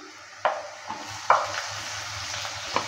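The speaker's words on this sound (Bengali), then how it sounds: "টমেটোটা দেওয়ার পর ভালো করে আবারও নেড়ে চেড়ে নিচ্ছি।" Chopped vegetables and tomato fry in a pan under a soft constant sizzle, broken by three or four sharp spatula scrapes as they are stirred, close and clear.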